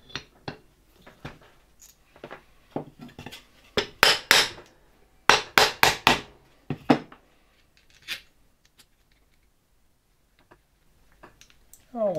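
Screws being driven into the cover of a 1958 Croatia single-phase electric motor, giving clusters of close metallic clicks and scrapes with pauses between turns, with brief talk in between.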